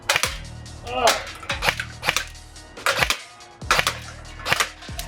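Roughly eight sharp pistol shots from a WE Galaxy G-Series gas blowback airsoft pistol, fired in a quick, fairly even rhythm, each a loud close crack with a brief mechanical clack of the slide.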